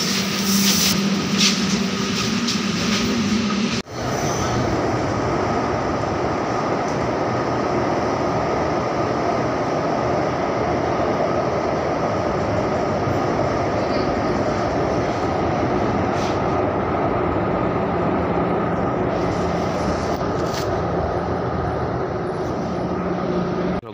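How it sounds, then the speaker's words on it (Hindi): Steady loud rumble and hum of a metro train ride heard from inside the moving car, with a brief clatter early on, then an even, continuous drone. "तर चला आपण चाललो आता मेट्रोमध्ये, कॉलेजला मेट्रो आलेले आहे"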